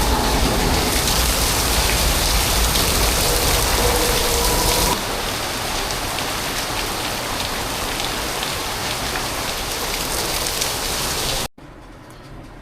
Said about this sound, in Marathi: बघा मित्रांनो पाऊस जामच पडतोय.